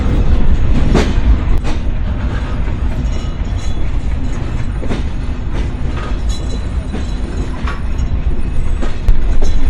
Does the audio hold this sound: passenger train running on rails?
yes